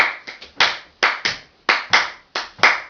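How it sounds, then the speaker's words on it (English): Hands clap a syncopated blues rhythm, about ten sharp, close claps in uneven groups with short silent gaps between them, played alone with no talking. "I mean, you can just clap it."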